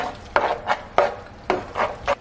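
A spoonful stirred into a Mexican dish, several distinct scraping strokes of a spoon against the bowl in an uneven rhythm, close and fairly loud with no talk.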